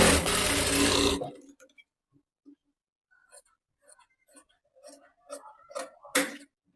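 A sewing machine runs in a loud, steady burst for about a second while stitching the side seam of a cotton princess-cut blouse, then stops, leaving faint scattered taps and handling noises.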